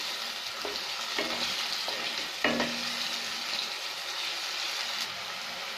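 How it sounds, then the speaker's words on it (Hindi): Onions, green chili and tomato are stirred in a frying pan over a steady sizzle, with several clear scraping and clinking stirs close by and no speech. "अब हम इसमें ग्रीन चिली डालेंगे, टोमेटो डालेंगे और उसे चलाएंगे।"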